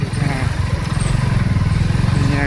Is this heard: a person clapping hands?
no